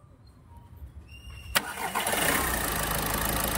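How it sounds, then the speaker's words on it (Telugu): A Volkswagen Polo engine cranks and catches with a sharp onset, then settles into a steady, close idle after quiet, faint sounds beforehand. "చూడొచ్చు బండి అయితే స్టార్ట్ అయింది."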